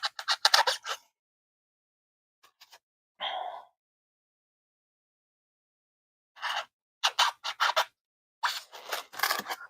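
Scissors cutting foam for a model ship, short crisp snipping bursts in clusters separated by silent pauses, close and with no talking.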